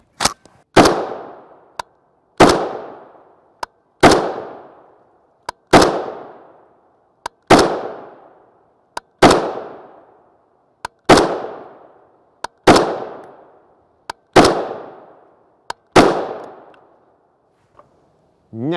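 A Springfield Hellion 16-inch bullpup rifle firing .223 Remington 77gr OTM rounds outdoors, about ten loud sharp shots at a steady pace of roughly one every two seconds, each with a fading echo tail and a faint click between shots.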